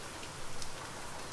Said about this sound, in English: And now it rained for the first time.